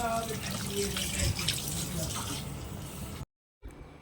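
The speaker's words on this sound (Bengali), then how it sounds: "মাংসটা ভালো করে ধুয়ে নিলাম।" Tap water runs steadily over 1 kilo of mutton being washed in a kitchen sink, a close, continuous splashing that stops abruptly near the end, followed by silence and then a faint resumption.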